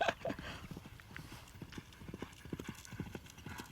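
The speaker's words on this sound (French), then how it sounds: "C'est bizarre comme il galope là" A horse gallops during a training run on a racecourse, with rapid, regular hoofbeats close by throughout and some faint background noise.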